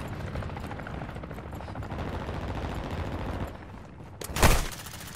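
Rapid automatic gunfire in the video game Call of Duty Modern Warfare 2, dense repeated bursts throughout, then a louder sharp blast near the end, close and intense with no talking.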